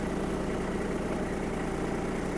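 A Kubota GB-20 Japanese mini tractor engine idles in a steady, close, even rumble with a constant low vibration and no talk over it.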